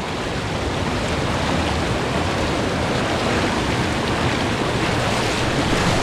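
Constant rushing roar of a flowing river while walking along it, broad and loud like surf, steady for the whole stretch with no voices.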